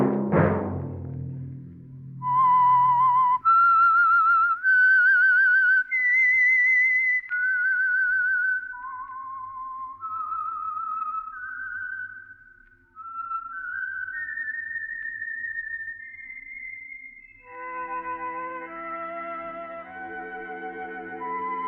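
Whistled signature tune of The Whistler radio mystery program: a lone, clear melody of sustained and sliding notes after a brief opening sound, ending as a richer tonal chord swells in underneath.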